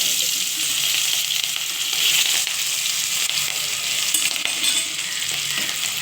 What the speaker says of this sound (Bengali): আমি এবার মাছগুলো তুলে দিচ্ছি ভাজার জন্য